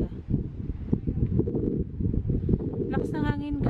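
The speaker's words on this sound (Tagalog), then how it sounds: "Lakas ng hangin, guys." Heavy wind buffets the microphone in low, rumbling gusts at Oxararfoss waterfall in Thingvellir, Iceland, with a brief whine or squeak near the end.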